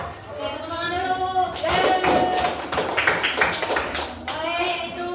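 Schoolchildren clapping together in an elementary classroom: a short burst of many small hands clapping in the middle, with children's and a teacher's voices talking before and after.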